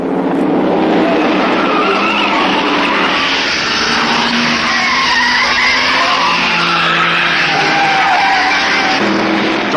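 A 1971 Ford Falcon GTHO race car accelerates hard down Conrod Straight at Mount Panorama, Bathurst, its loud engine roaring continuously and close, with a slight rise and fall in intensity.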